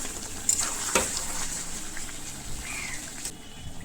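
Mutton curry being stirred in a pan, with a continuous bubbling sizzle and a couple of soft scraping knocks from the spoon, close by.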